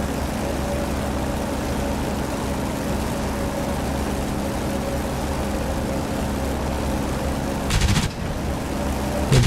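Corsair fighter guns in the DCS flight simulator fire a short, sharp burst near the end over a steady, loud roar of engine and airflow.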